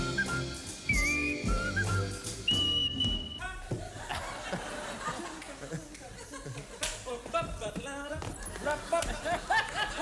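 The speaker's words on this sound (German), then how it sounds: "die erstmal unser Indikativ pfeift" A woman whistles a game show theme tune, clear melodic whistling at the start over music, giving way to busy studio sound with laughter and clatter.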